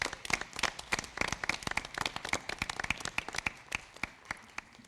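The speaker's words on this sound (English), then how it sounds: "So let's hear another big round of applause for Armando Villanueva." Applause for a student honoree at a school board meeting, a room of people clapping in a sharp, uneven patter of individual claps that stays moderately loud, with no talking over it.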